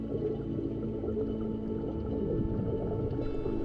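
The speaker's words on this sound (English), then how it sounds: "Once your head goes underwater, you don't hear anything except your bubbles." Underwater during an open water scuba course in the Andaman Islands, India, a diver's bubbles and breathing make a continuous low, muffled rumble with a dense, steady texture.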